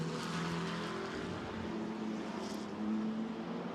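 A BMW race car at the 24 Hours of Spa pre-qualifying runs steadily through the pit lane, its engine loud and close with a constant droning roar for the whole stretch.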